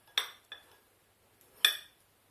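A knife slices through a summer-vegetable and goat-cheese pizza in three short, close strokes, each a crisp scrape with a faint metallic clink against the plate or board, separated by brief pauses.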